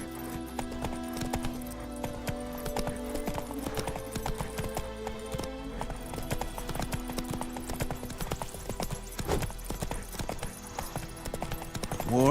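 Hooves of the horse Roach clip-clop in a rapid galloping rhythm across a video game soundscape from The Witcher 3, loud and close over a low music bed, with a brief whinny near the end.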